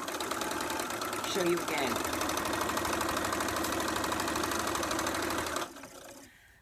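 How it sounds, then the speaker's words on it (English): A sewing machine joins quilt quarters with a steady, fast mechanical chatter lasting several seconds before stopping. A voice speaks briefly over the start of the run. "let me just sew this one"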